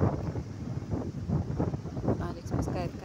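Steady wind buffets and rumbles across a river beach after overnight rain, a continuous low roar with faint rustling on top.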